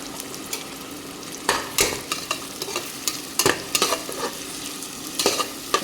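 Onion and ground tomato-onion paste sautéing in hot oil, a soft steady sizzle broken by frequent scraping and knocking of a stirring spoon against the pan, close and fairly quiet.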